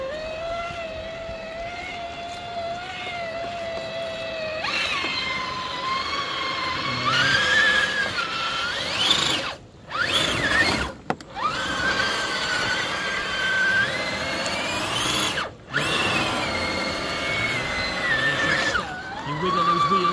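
An RC crawler truck, a TRX4, drives through sloppy mud, its small electric motor whining up and down in pitch with brief drops as it strains through.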